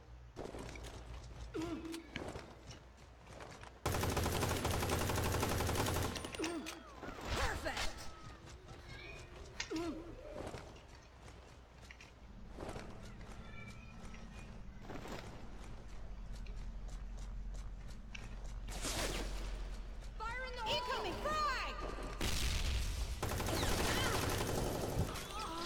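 Gunfire in a video game, bursts of shots and rapid volleys scattered over a long stretch, mixed with footstep-like clatter and game noise, while someone talks intermittently over it.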